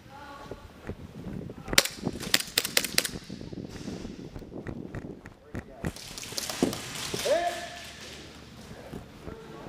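Airsoft guns fire during an outdoor ball-game skirmish, a burst of sharp close cracks early on and scattered pops later, with voices talking over the action.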